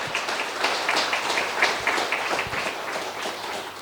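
A church congregation claps together in a lively, rhythmic burst of applause that carries on steadily at moderate volume, with some voices mixed in.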